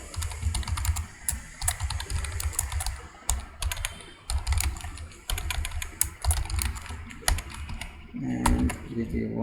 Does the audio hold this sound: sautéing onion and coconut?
no